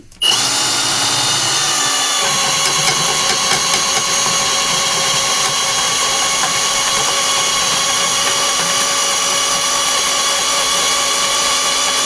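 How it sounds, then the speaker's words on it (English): A power drill bores a 3/4 inch hole at an angle near the edge of a kitchen counter or cabinet for supply lines, running loud and steady with a whining motor for about twelve seconds after a sharp start. "We're going to drill out close to the edge"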